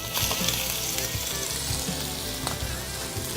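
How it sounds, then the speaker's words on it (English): A marrow bone sears in about a teaspoon of oil, a steady, dense sizzle and crackle close up, with small pops scattered throughout and no voices. "we're going to sear the bottom, the top part first, which is where the marrow of the bone is"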